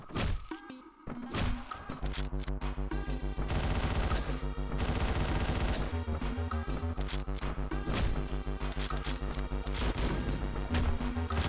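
Rapid bursts of gunfire from the top-down action game Hotline Miami, loud and dense over a thumping synth music track, with repeated crashing impacts running through the whole stretch.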